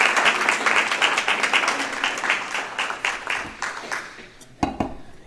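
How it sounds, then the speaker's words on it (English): A poetry-reading audience claps warmly for an arriving guest, a dense, sustained round of applause that slowly fades, ending with a couple of closer knocks. "Give her a round of applause as well as she comes on up."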